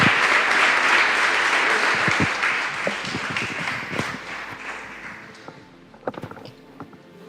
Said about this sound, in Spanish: vamos a dar un fuerte aplauso a la palabra de Dios